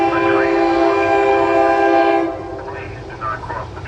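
A SEPTA Silverliner IV commuter train sounds a long, loud, steady horn blast at the Lower State Road grade crossing, holding for about two seconds before cutting off, leaving quieter rail rumble and crossing noise behind.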